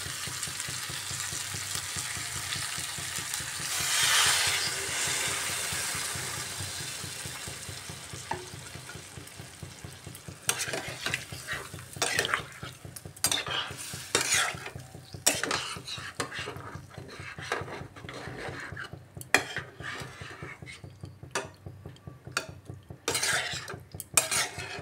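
Chicken already sautéed in a pan sizzles steadily as water is poured in, then a spoon scrapes and stirs against the pan with repeated clinks and scratches, close and fairly loud with no talking.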